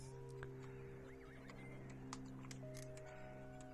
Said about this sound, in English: Another horse and cart over here I put in.